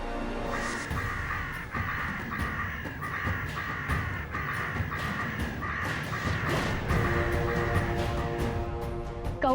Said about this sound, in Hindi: कौवे तो आएंगे ही ना